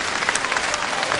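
Spectators at a wrestling bout applaud a well-executed throw, a brief burst of steady clapping from the crowd.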